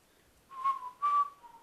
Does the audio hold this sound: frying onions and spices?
no